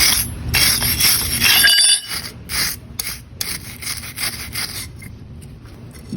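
A wire brush scrubs scale off a hot forged steel skull in a blacksmith shop, giving quick harsh scraping strokes close by with brief pauses between them.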